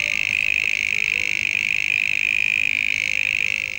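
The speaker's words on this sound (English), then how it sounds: "It is said to be the loudest noise made by an insect." An insect sings its love song from inside a tunnel that amplifies it, producing a shrill, continuous buzzing drone that holds steady and loud for several seconds before fading slightly at the end.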